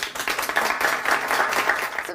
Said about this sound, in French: un tonnerre d'applaudissements pour Isaline.